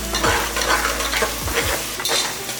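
Onions sautéing in a pan for chicken pulao, with a steady frying sizzle and repeated scrapes and clinks of a spoon stirring against the metal, close and fairly loud.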